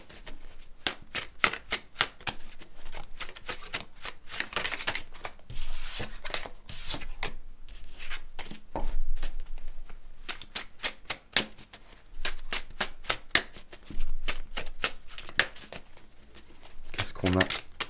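Tarot cards are shuffled close up before a draw, a long run of quick, crisp riffling flicks in dense rhythmic bursts, with a voice speaking intermittently.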